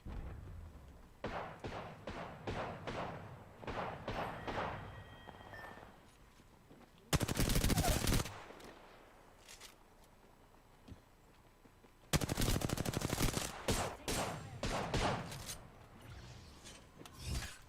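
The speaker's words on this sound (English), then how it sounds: "They're shooting at me." Automatic gunfire in an online shooter game: repeated close bursts of rapid shots, with two especially loud, dense volleys and quieter scattered firing between them.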